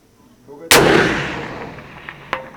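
A single loud, close shot from a Rossi R95 lever-action rifle in .30-30 fired at a target, a sharp crack with a long rolling echo, followed by a smaller metallic click.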